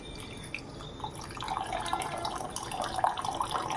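Tamarind water poured into cooking dal, a soft liquid trickle and drip at close range that grows slightly fuller as it goes, with no talking.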